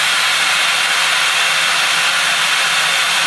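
An Electalfra MBS Pro magnetic drill cuts steadily into stainless steel, a loud, constant, close hiss with a bright grinding edge and no pauses.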